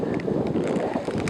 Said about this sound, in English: it's a little bit windy, so it's going to be a little bit difficult.